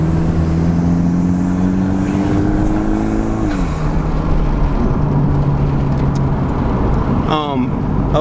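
Modded 2013 Dodge Dart Turbo heard from inside while riding, a steady loud engine and exhaust drone with rising and falling pitch, then a quick rev sweep near the end, with people talking over it.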